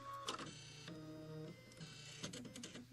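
A machine embroidery unit stitches out trees in emerald green thread, giving a quiet mechanical whir and hum with rhythmic clicking and brief shifts in motor pitch, with no voices.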